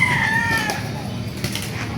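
A rooster crows close by at a busy chicken market in Baliuag, Bulacan, one drawn-out call over a steady background murmur of poultry and crowd.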